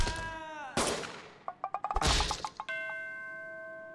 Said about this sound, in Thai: เฮ้ยตำรวจยิงเลย